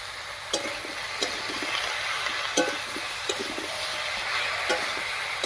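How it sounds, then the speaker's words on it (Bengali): Bottle gourd with salt and turmeric is stirred in a hot pan. A spoon scrapes and taps now and then over a steady, soft sizzle, with no one talking. "লবণ হলুদ দিয়ে খুব ভালো করে মিশিয়ে নিয়েছি।"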